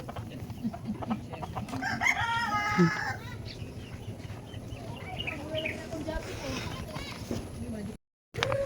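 Chickens cluck and a rooster crows at a free-range farm, the crowing rising early then fading into scattered clucks, with people talking throughout.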